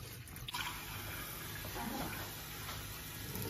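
Rice and dal being washed in water in a home kitchen, a steady faint sloshing and running-water hiss that continues throughout with no one talking.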